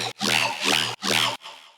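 A riddim dubstep synth bass patch pulses in three loud, gritty, wide-spectrum blasts with abrupt cutoffs, followed by a softer fading tail.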